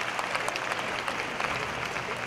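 A convocation audience applauds in a steady, fairly distant wash of clapping that holds evenly throughout, without individual claps standing out.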